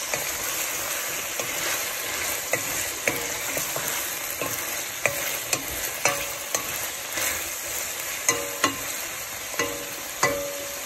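Bitter gourd (ampalaya) and eggs being tossed in a frying pan, a steady sizzle broken by repeated clacks of the utensil scraping and stirring, close by with no voices.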